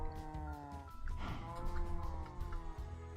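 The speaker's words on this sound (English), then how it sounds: "Hey, here's the sheep we were looking for." Sheep bleating in a modded Minecraft 1.12.2 world, a steady stream of game sound with layered bleats and animal calls under background music, moderately loud throughout.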